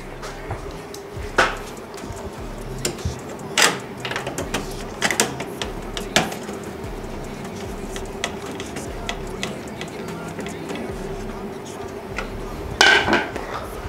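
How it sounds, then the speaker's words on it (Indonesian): A graphics card being screwed into a budget desktop PC case, with scattered metallic clicks and small clanks of the screwdriver and screws over steady background hiss, no talking. "VGA udah masuk, lalu kita baut langsung"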